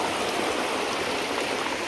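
Water flows steadily outdoors as a dense, unbroken rushing wash that stays close and even throughout, with no voices.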